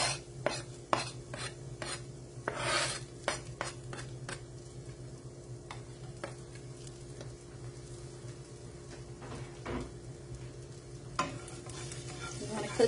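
Shallot, thinly sliced garlic and chopped fresh basil sizzle in a skillet while being stirred, a steady close frying hiss broken by repeated sharp scraping and tapping strokes of a utensil, with no talking.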